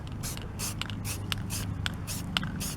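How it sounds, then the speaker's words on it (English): Aerosol primer spray hissing onto a car radio knob in short repeated bursts, close and moderately loud, with a low steady hum underneath and no talking. "I'm going to spray coat a primer on the"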